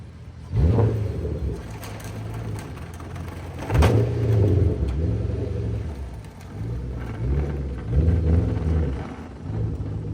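A manual-swapped Q45 car pulls out of a driveway, its engine rumbling nearby and revving in several rising surges, with occasional bird calls in the background and no talking.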